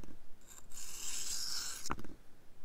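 A single stroke of a knife blade across a sharpening stone gives a close, brief rasping scrape, ending with a sharp knock, with no speech.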